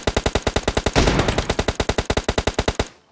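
Rapid automatic gunfire in PUBG Mobile on the Sanhok map, a loud, steady burst of about thirty evenly spaced shots with a dense volley in the middle, ending abruptly.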